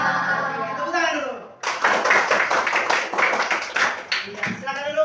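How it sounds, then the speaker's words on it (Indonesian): A classroom of students claps together in a dense, loud burst of rhythmic clapping, preceded and followed by a teacher's voice speaking. "Tepuk tangan dulu."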